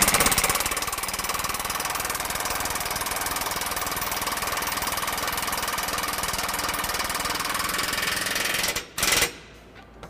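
A power impact tool runs a bolt up snug while a front-mount trailer hitch goes onto a 2017 Ram 1500, making a loud, continuous rapid hammering rattle close by for about nine seconds before cutting off in a couple of short bursts.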